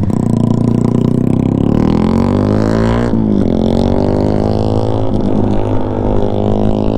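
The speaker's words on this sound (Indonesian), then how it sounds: "Kurang power lah motor Kelvin ni" Yamaha Y15ZR motorcycle engine running loud and close, steady revving with a pitch sweep up and down midway, continuous for the whole stretch.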